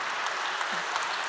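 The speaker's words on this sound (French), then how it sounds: "je crois qu'on peut vraiment applaudir tous nos panélistes" An audience applauds panelists after a session on post-production consoles, producing dense, steady clapping that holds at an even level throughout, with no voices standing out.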